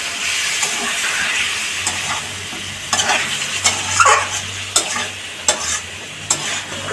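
Cauliflower sautéing for a curry, splashed with the water used to soak bori, a loud continuous hiss and sizzle with scraping stirring strokes and spitting bursts growing busier toward the end.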